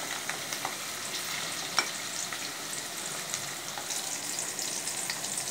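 Steady crackling sizzle of shallots frying in hot oil with lightly fried garlic, with small pops scattered throughout and no voices.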